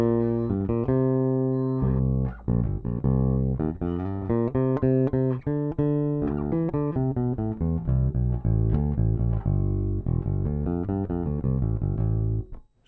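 A Fender P-Bass electric bass played clean with no effects pedal, plucking a steady line of full, round notes with deep low end, loud and close, with no talking.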